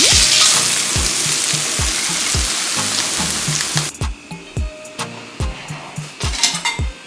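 Pompano fish frying in hot oil in a Jamaican-style pot gives a loud, steady sizzle that drops away after about four seconds. Sharp, separate clatters and taps follow, most likely as the fish is lifted out.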